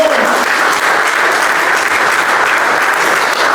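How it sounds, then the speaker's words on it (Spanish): Loud, sustained applause from a church congregation, a dense, even roar of many clapping hands filling the room with no break. "Denle un aplauso fuerte a nuestro Dios"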